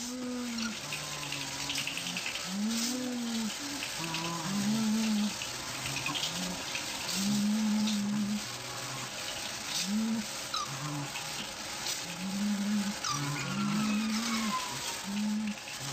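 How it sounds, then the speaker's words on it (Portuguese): Elephant calls played back ten times faster and raised in pitch: a steady series of short, rising and falling whooping tones over a constant hiss, with no talking. "Todos esses sons são de elefantes que não ouvimos antes."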